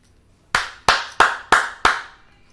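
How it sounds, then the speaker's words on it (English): Five sharp hand claps in a small closet, evenly spaced about a third of a second apart, each loud and close with a short ringing tail. "Claps are extra loud in this closet"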